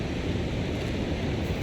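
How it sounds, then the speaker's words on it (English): In The Long Dark, steady, broad whooshing wind fills the snowy scene, a constant rushing noise with no distinct events and no voices. "when it's very windy like this"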